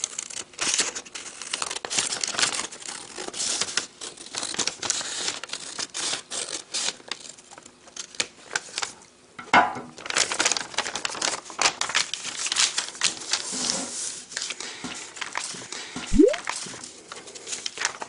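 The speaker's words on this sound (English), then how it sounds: "We're going to cut right along that line." Paper being cut with scissors while shaping an origami rose, heard as close, irregular snipping and crinkling crackles scattered through the stretch, with no talking.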